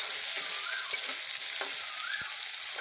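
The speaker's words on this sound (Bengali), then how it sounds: "আলুগুলোকে লাল লাল করে ভেজে নেব" Boiled potatoes fry in a pan with a dense, continuous sizzle, punctuated by a few scraping stirs of a utensil, loud and close with no talking.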